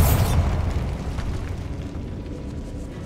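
Bombarda explosion spell in Hogwarts Legacy, a loud booming blast at the start that rumbles and decays over the next few seconds.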